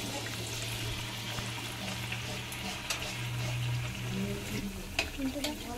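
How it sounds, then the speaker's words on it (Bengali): Rice-flour pitha cakes deep-fry in oil, giving a quiet, continuous bubbling crackle over a low steady hum, with faint voices briefly in the background. "এবার আমরা এখানে তেলের পিঠে বানাচ্ছি।"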